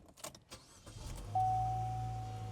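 A car engine cranks and fires up on power from a GooLoo A5 portable jump starter pack, then settles into a steady, close idle after a brief burst of rustling handling noise.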